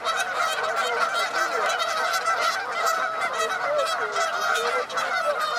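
Canada geese fighting in a loud commotion outdoors, with dense, continuous overlapping honks and harsh calls from several birds close by, steady and unbroken throughout.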